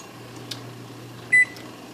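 A microwave oven timer being set in a kitchen while bow tie pasta alfredo is made: a faint tap, then one clear electronic beep of about a tenth of a second over a low appliance hum.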